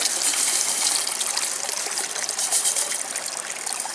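Water carrying charcoal is poured into the second tier of a homemade three-tier water filter, giving a steady, close splashing trickle and gush that runs without pause for the whole stretch, with no talking.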